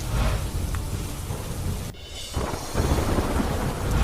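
Heavy rain pours down loudly during a storm in Gujarat, a dense, close hiss broken by rumbling thunder partway through, with no voices.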